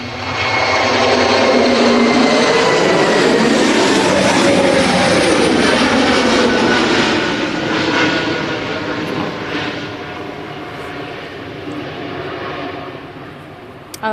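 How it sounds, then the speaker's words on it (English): Lufthansa Airbus A320 departing Manchester Airport runway 23L for Munich, a loud broad jet roar that holds steady for several seconds and then gradually fades as the airliner climbs away. "We've got this Lufthansa. It's A320 going to Munich."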